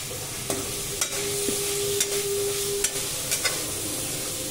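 Cauliflower and capsicum sizzle steadily in a covered pan, a constant close frying hiss broken by a few faint clinks and taps.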